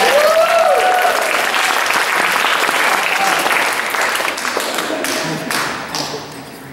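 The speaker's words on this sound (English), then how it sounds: "Ladies and gentlemen, a large round of applause for Marla from Maryland" An audience applauds a volunteer at a live performance show, loud dense clapping that starts strong and gradually thins out, with a few cheers and faint voices mixed in.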